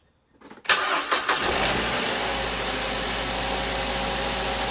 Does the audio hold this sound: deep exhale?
no